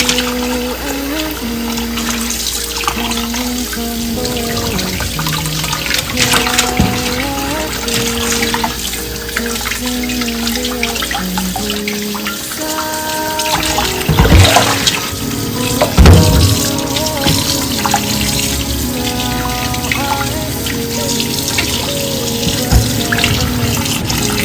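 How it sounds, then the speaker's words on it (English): Tap water runs steadily into a kitchen sink while a pork shoulder is washed with vinegar and lime, a loud continuous splash with shifting gurgles and handling bumps, and a voice talking over it. "I'm going to start by washing my pork shoulder"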